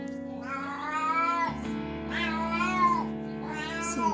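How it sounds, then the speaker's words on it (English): A cat in heat yowls in drawn-out, rising meows, three loud calls in a row against a steady low background hum. "I'm so sorry that my cat is so loud in the background."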